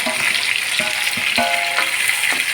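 Onion fries in a pan for a buttermilk vegetable curry, a steady loud sizzle with crackling pops and a few light stirring scrapes, close and continuous, no voices.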